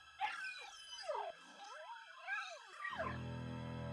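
A dog in the video game Luigi's Mansion 2 HD gives a drawn-out, wavering howl with rising and falling pitch, repeated over several seconds, close and fairly loud, with no talking.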